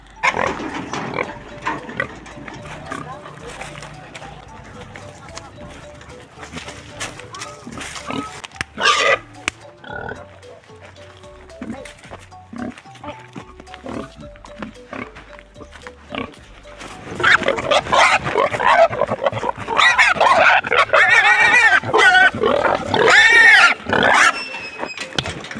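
Pigs squeal and grunt as they are loaded onto a tractor, scattered oinks and cries at first, then a dense, loud burst of overlapping squeals near the end, with occasional voices in the background.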